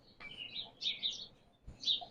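Birds chirping outdoors: several short, high tweets in quick bursts, moderately close, with a soft thump between calls and no talking.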